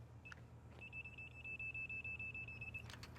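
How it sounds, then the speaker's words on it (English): Loud, rapid repeated beeping from an electrical safety demonstration car signalling it is fully energized, a steady series of even electronic beeps running about two seconds over a low background hum. "If you can hear that loud beeping sound, that's telling us we're fully energized."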